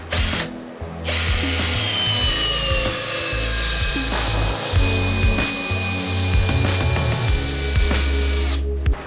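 Vitals cordless drill-driver set to drilling mode drives a 200 mm screw into wood, a loud continuous motor whine that strains and wavers under load for several seconds, then stops abruptly at the end, with no talking.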